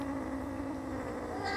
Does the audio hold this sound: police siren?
no